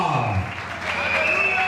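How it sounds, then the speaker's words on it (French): Church congregation clapping and cheering together, a steady wash of applause with raised voices and shouts over it, loud and close throughout. "Célébrons la grâce de Dieu avec nos acclamations."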